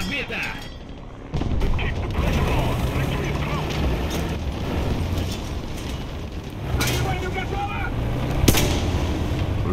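Tank gunfire in a War Thunder battle with a Russian tank: booming cannon shots and rumbling engine noise fill the scene, with one sharp report standing out near the end, continuous and loud throughout.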